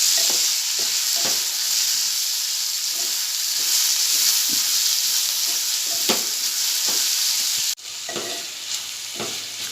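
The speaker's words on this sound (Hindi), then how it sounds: "अब मैं इसमें टमाटर डालूंगी और इसे भी पकने तक, टमाटर गलने तक इसे प्याज में पकाऊंगी।" Tomatoes cook with softened onions in a pan, giving a loud, steady sizzle and hiss close up, punctuated by light stirring taps, with a sudden drop in level near the end and the frying continuing more quietly.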